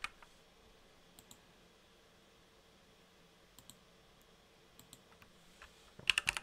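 Faint computer keys being typed while a command is entered, with a few sparse isolated clicks early on and then a quick burst of keystrokes at the end, in a quiet room.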